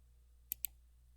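Two quick, sharp computer mouse left clicks, close together and crisp, heard alone against a faint steady hum while working in Microsoft Excel.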